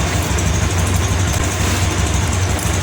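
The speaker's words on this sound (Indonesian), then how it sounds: "sebelum kita melepas aki, ini motor lagi menyala ya" Close, loud, steady idle of a 2022 Honda Scoopy scooter engine, a continuous low rumble with no talking.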